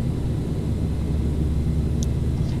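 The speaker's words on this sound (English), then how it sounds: "it is a very, very loud plane" A Fokker 50 turboprop airliner in a flight simulator drones steadily, a loud, constant low engine rumble with broadband hiss, and a faint brief chime near the end.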